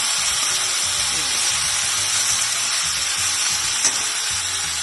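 Onion and amaranth leaves fry in a pan with a steady bright sizzle and hiss that stays close and even throughout, with faint stirring underneath.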